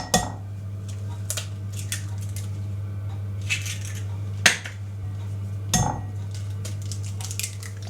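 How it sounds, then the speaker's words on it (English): Eggs cracked one at a time into flour for a dairy-free Yorkshire pudding batter, heard as a few sharp knocks and clinks against a bowl over a quiet background hum. "you're just going to crack your eggs in one at a time into your flour"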